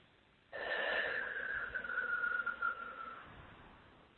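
A single long, slow breath drawn in or released, a breathy whistling hiss lasting about two and a half seconds over faint background hum.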